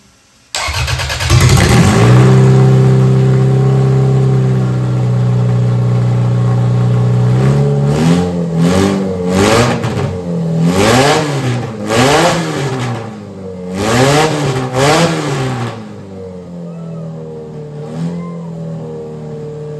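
A Toyota Camry engine cranks, starts and settles into a close, loud idle, then is revved repeatedly in rising and falling bursts before easing back down.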